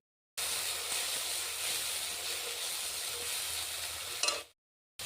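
Cumin seeds hitting hot oil left from frying pointed gourd, a steady loud sizzle and crackle that holds for about four seconds, then stops abruptly.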